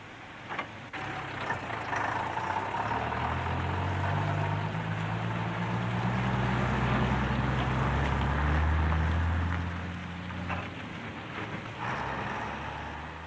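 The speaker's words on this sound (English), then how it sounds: "loaded into stainless steel road tankers for delivery" A stainless steel road tanker truck's diesel engine runs steadily for about thirteen seconds, a loud low rumble that rises and falls, with no talk.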